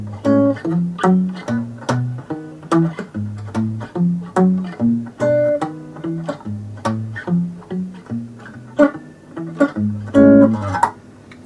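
A walking bass line picked on guitar, with steady stepping notes in an even rhythm, played close and clear with no voices.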